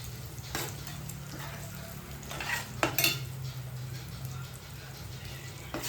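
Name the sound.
ground fenugreek and mustard stirred into frying fish pickle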